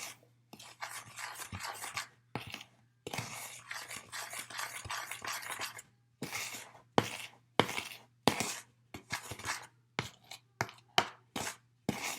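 Flour, salt and cream of tartar stirred together in a bowl, heard as close, repeated scraping and rubbing strokes in short bursts with brief pauses between them and no talking.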